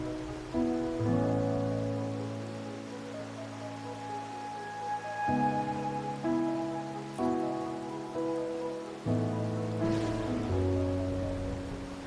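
Steady rain hisses in the video game Wuthering Waves, a soft, even wash that runs beneath sustained, slowly shifting musical tones.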